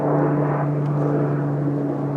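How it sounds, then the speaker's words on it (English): A propeller airplane drones steadily overhead above a wildfire, a loud continuous engine hum with a low throbbing tone and no talking. "Got one plane there, and we got another one right there."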